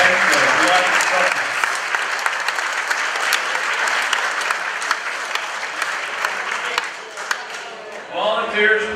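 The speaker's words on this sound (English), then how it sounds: "Special round of applause for our 2019 gold sponsor." Applause for a gold sponsor at a public officials night fills the room, a full steady clapping crowd that thins toward the end as a voice begins speaking over the last claps.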